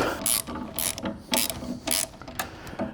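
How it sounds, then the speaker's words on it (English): A bolt and nut being tightened on a clamp, close and fairly loud, a rhythmic series of ratcheting clicks in short bursts about every half second, with no voices. "we just start tightening the bolt. As we tighten the bolt, it'll close the clamp up."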